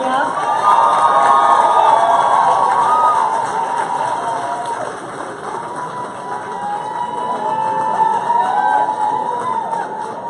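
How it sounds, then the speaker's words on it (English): Guests at a corporate cocktail reception cheer and whoop for an honoree, loud sustained crowd shouting and voices with some clapping mixed in, swelling and dipping over about ten seconds. "Another round of applause for Antonia."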